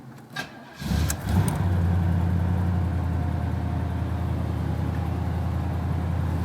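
Chevrolet Monte Carlo engine starting: a brief rattle of keys, then the starter cranks and the engine catches with a rising roar, settling into a steady, close, rumbling idle.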